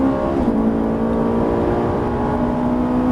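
A Ferrari F458 accelerates around the Circuit Haut Saintonge race track; its engine holds a loud, steady, close-up drone for about three seconds, with no break in the sound.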